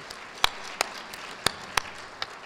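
Scattered, isolated hand claps ring out in a ceremony hall at a Women's Hall of Fame induction, about six sharp separate claps spaced irregularly over a quiet room background.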